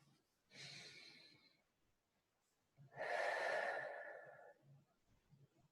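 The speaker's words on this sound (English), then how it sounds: "And breathe." Two slow, deep breaths during a guided breathing exercise, each a long airy inhale or exhale lasting over a second, the second louder and fuller, close to the microphone with quiet pauses between.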